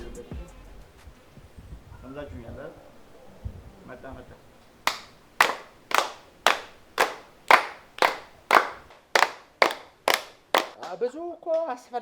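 About a dozen sharp, evenly spaced hand claps ring out close by in a steady rhythm after a stretch of quieter talk, with voices resuming at the end.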